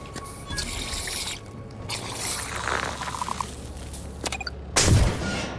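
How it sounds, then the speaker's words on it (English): Explosion of a mine set off in the sci-fi video game The Outer Worlds 2, a sudden loud boom near the end, after a stretch of ambient game sound with scattered clicks and thuds. "Oh, I can explode this."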